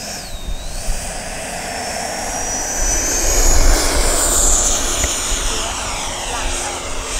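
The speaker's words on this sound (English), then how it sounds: "let's take off this time actually with landing flaps or takeoff flaps" A Freewing Yak 130 EDF radio-controlled jet takes off, its ducted fan giving a steady loud rushing whine that swells and rises in pitch midway, with a voice talking over it.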